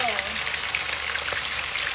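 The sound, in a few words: fish frying in a pan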